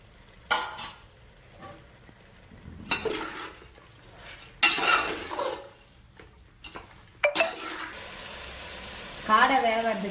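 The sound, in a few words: quail added to frying tomato and yogurt masala for biryani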